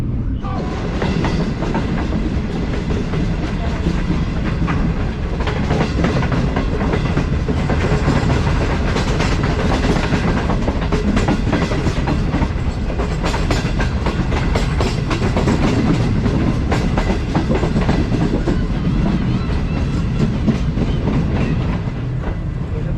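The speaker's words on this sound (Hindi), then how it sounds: "ये ट्रेन हमारी आहिस्ता आहिस्ता इंटीरियर सिंध के अंदर से गुजरती हुई हैदराबाद जंक्शन की तरफ बढ़ रही है।" A Green Line Express passenger train, heard from the parlour car while travelling through interior Sindh toward Hyderabad Junction, gives a steady, loud rumble with continuous clickety-clack of wheels on rail joints throughout, with no talking.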